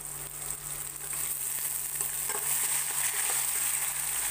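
A tomato is added to a tempering of garlic and curry leaves frying in oil, giving a steady, close sizzle with a low hum underneath and no talk.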